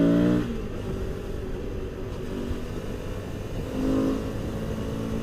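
A car's engine note drops on a downshift, then swells steadily as it pulls out of a corner on a winding road, a continuous mid-level drone heard from inside the car.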